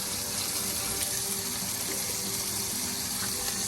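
A lamb steak sizzles in a hot pan with a dense, continuous hiss and crackle that holds steady at a close, loud level throughout.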